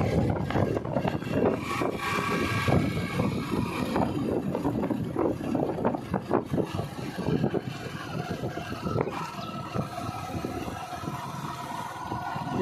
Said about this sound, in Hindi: अभी जा रहा हूँ घर पे मस्त बाइक लेके